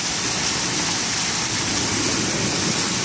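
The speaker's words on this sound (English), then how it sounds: "Look at all that hail." A hailstorm's ice pellets drum down nonstop, producing a thick, even roar of tiny impacts that holds steady throughout, close and loud, with no one speaking.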